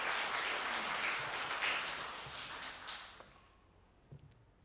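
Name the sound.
congregation applauding in church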